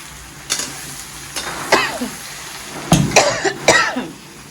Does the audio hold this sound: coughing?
yes